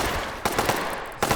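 The Black Mamba gun fires in a first-person shooter video game: rapid automatic bursts crackle loudly, broken by a short pause, then resume.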